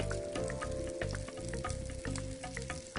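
Onions browning in a frying pan for a Greek Rapsani dish, a steady close sizzle with crackling pops and faint stirring scrapes, no talking.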